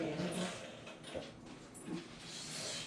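Dog whimpering softly in a few short, faint whines spread across a quiet moment, with no talk over them.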